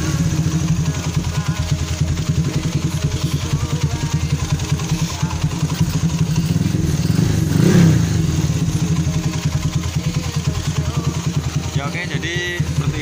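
Honda GL Pro motorcycle engine fitted with an added electric starter, running at a steady close idle with a brief rise in revs midway, while a voice talks over it.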